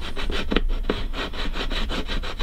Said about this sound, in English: It's actually a good point in time to actually file it